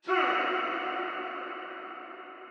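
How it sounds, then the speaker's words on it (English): A reverb throw on the final word of a sung vocal line: a sudden breathy swell that hangs and slowly decays in a long, washy tail, heard alone. "I created a reverb throw to accentuate the last word of the verse"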